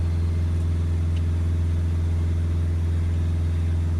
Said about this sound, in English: Just going to hold the revs on the van while we're looking at this